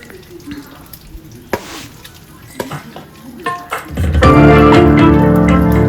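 Oxtail meat sizzles in a pan; after some quiet handling clatter, a loud, steady frying hiss swells up and holds to the end.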